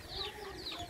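Chickens on a poultry and egg farm cluck faintly in a short burst of soft, overlapping calls.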